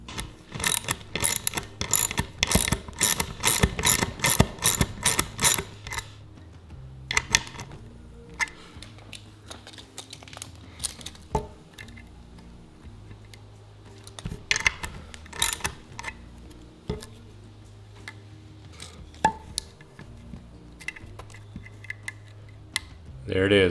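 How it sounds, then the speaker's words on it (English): A ratchet turns a lawn mower's height-of-cut bolt down, rapid loud clicking at first, then slower intermittent ratchet clicks and metallic knocks close up. "all I have to do is lower this bolt down until the space between here is 1/2 inch"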